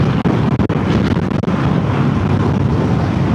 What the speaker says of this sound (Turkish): Dur biraz rüzgar esiyor.